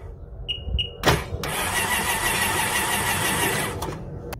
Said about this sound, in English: put your throttle, hold it all the way open, and crank it for about 2 to 3 seconds